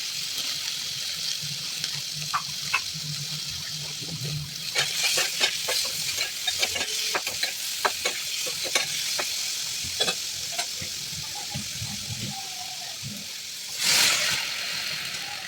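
Dried red chili tempering fries in oil, crackling with a steady sizzle and bursts of sharp pops and spatters, plus stirring scrapes and a loud rushing hiss near the end.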